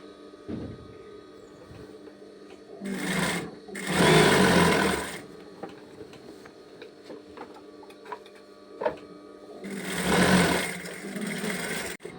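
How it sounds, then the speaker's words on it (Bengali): A sewing machine stitches the two side seams of a dress for an older girl, running in two loud, sustained bursts separated by quieter pauses with light mechanical ticking. "এভাবে জামার দোনোটা সাইড সেলাই করে নেব।"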